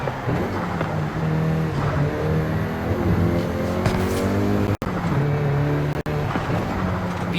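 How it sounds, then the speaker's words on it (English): A Volkswagen Golf GTI in the Forza Horizon 5 driving game holds a steady loud engine drone with shifting revs, nearly continuous apart from two abrupt brief dropouts. "the Golf GTI you're driving right now"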